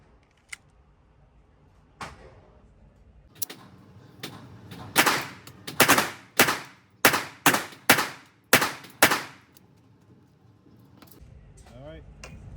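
Pistol shots fired with a Shield Arms Z8 magazine ring out at close range, a few spaced shots followed by a rapid series of about eight sharp reports, with brief talking at the start and end.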